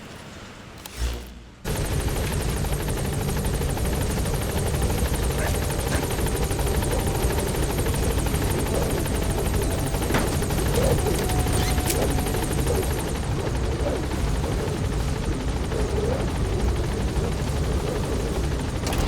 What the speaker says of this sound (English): Go ahead and call the chopper from your eye drone.